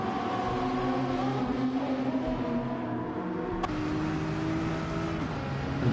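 Nissan race car engine in a racing video game at Monza, a steady loud drone with harmonic tones holding through, one shift in pitch midway, and no talk over it.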